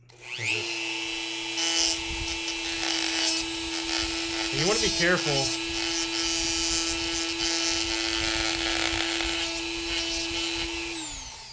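A steady high-pitched whine of a rotary tool with a sanding bit grinding, running continuously for about ten seconds, with a person speaking briefly over it partway through.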